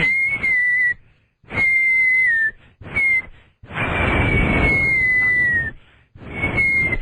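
A person whistles in short bursts, five sustained high notes with gaps between, fairly close and loud, some breathy and rough.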